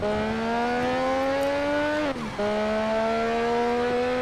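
A Supra race car in Need for Speed Shift 2 holds a loud, steady engine drone that dips briefly as a gear shift, then climbs again at high revs.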